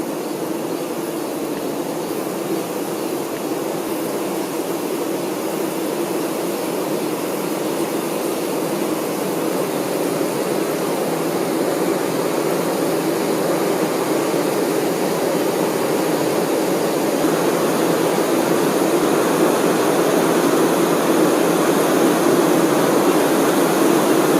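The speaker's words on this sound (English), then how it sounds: "Honeybees that guard the beehive are cooling the hive with their flapping wings." Guard honey bees fan their wings at a beehive entrance to cool it, producing a dense, steady, loud droning hum that swells slightly and never breaks.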